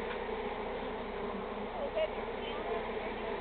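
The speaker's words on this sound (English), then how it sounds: "There's a lot of bees." Bees hum around a large beehive inside an old house, a faint, continuous buzzing close by with occasional louder passes, no talk.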